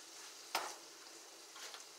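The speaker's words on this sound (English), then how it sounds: "we're going to give it a good stir around" Shepherd's pie filling being stirred in a skillet, with a sharp scrape of the spoon near the start and a faint sizzle of frying underneath, then softer scraping toward the end.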